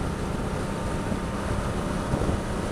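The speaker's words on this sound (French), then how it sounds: "ça c'est le vent qui vient du côté" Wind blows from the side onto a rider on a 2016 Honda Africa Twin motorcycle, producing a constant loud broadband roar and buffeting from the wind on the microphone, with no talking.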